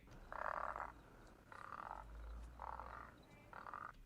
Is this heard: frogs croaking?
yes